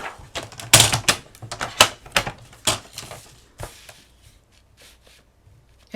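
Sheets of stored craft paper being cut to 6 by 12 with a blade or trimmer, a rapid run of crisp close snips and clacks that slows and fades into quiet near the end.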